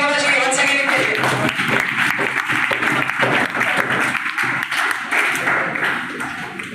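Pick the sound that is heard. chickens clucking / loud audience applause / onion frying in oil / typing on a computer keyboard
loud audience applause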